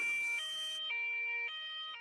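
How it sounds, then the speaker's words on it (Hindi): Ambulance siren in a children's animated story, a clear steady two-tone wail alternating pitch every half second or so, loud and close with no talk over it. "कालू आगे आगे उड़ रहा था और एम्बुलेंस पीछे पीछे आ रही थी।"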